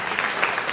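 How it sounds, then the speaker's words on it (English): Brief burst of audience clapping at a Kansas 3rd Congressional District Democratic primary candidate forum, a crowd applauding steadily for under a second with no talking on top. "Please hold your applause."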